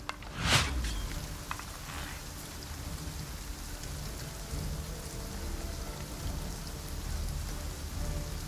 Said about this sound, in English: Look at that rain, not quite so loud.